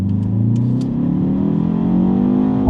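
A 2025 BMW X2 M35i with 312 horsepower accelerates hard, its engine note climbing steadily in pitch as it pulls, loud and close from inside the cabin, with no talking.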